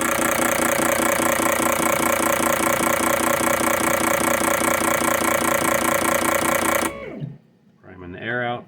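Outboard air injectors cycle on a flow bench and give a loud, rapid, buzzing chatter. It runs steadily for about seven seconds, then stops abruptly, and a brief voice follows in the quiet.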